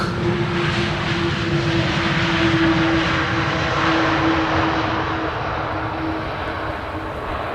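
A KLM airliner at Amsterdam Schiphol Airport gives off a steady, loud engine roar with a sustained droning tone that holds evenly throughout and fades slightly near the end.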